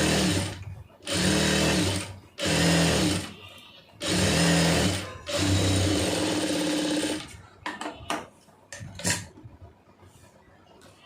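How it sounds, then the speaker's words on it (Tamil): Sewing machine stitching a folded blouse hem, running in four or five close, loud bursts of steady whirring stitching with short pauses, followed by scattered clicks and handling noises. "இப்போ இதில் அப்படியே மடித்து ஒரு அது மேலே வந்து ஒரு படிமண் தையல் போட்டுருங்க"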